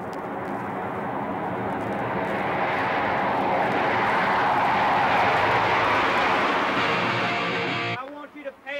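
Jet airliner engines roar at an airport during a flight: a loud, steady broadband rush that swells toward the middle and cuts off abruptly near the end.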